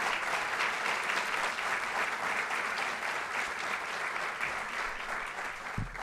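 An awards ceremony audience applauds support employees and teachers, a sustained, even patter of many hands clapping, moderately distant and quieter overall, with no speech over it.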